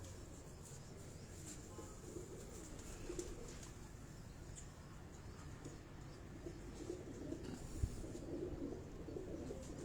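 A breeder's pigeon coos softly and repeatedly over a steady low background hum, the calls close but gentle, with no talking.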